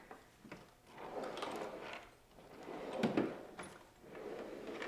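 Wooden drawers in a woodworking shop's rebuilt base cabinet slide open and shut several times, soft rumbling runs with light knocks at each close, fairly near and unaccompanied by talk.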